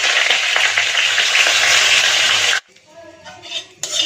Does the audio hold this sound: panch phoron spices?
yes